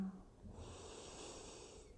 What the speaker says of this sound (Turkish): Derin bir nefes al burnundan.